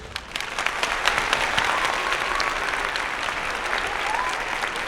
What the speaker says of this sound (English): I'm gonna add in like a round of applause and everything.